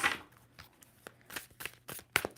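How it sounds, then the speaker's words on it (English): A deck of tarot cards is shuffled by hand at close range in a few quick, soft bursts of riffling and tapping. "2 more shuffles for Scorpio."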